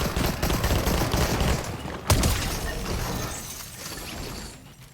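Rapid bursts of video game gunfire and crashing impacts from a Fortnite match, including a sharp shotgun blast midway, fade into a softer rumbling clatter toward the end.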